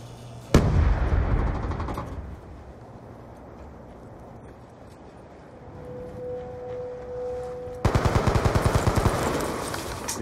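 Automatic gunfire in a first-person shooter match: a loud opening shot, then a sustained rattle of game sounds, and a sharp burst of rapid shots near the end, all close and dense.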